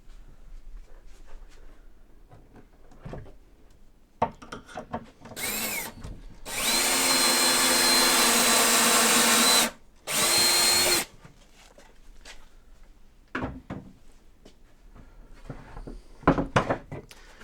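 A power drill drives screws into butt-jointed plywood while building a model railroad layout benchmark, with two loud sustained bursts near the mic, a shorter earlier whir, and scattered knocks and handling clatter between them.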